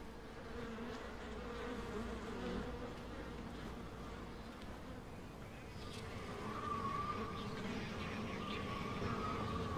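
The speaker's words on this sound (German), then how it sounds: "Das Fliegen oder Bienen?" Flies or bees buzzing in Everybody's Gone to the Rapture, a continuous close hum that holds steady and swells slightly toward the end, alone without speech.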